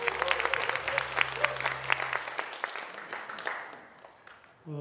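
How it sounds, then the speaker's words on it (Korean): Audience applause at a CEO class welcome event in Daegu, South Korea: a burst of clapping from a room full of people that fades out over about four seconds, with a low hum underneath early on. "박수 크게 한번 주십시오."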